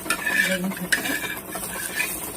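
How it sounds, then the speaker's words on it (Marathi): A dhapate flatbread is flipped and pressed in an oiled pan, heard as close scraping and metallic clinks of a spatula against the pan over a soft sizzle. "आता आपण आपलं धपाटं परतवणार आहोत अशा प्रकारे"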